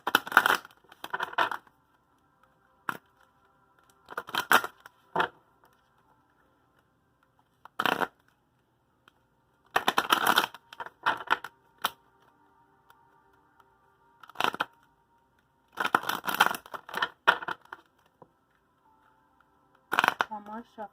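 Oracle cards being shuffled by hand during a tarot reading, short crisp riffling bursts repeated in irregular bunches with quiet gaps between, close and moderately loud.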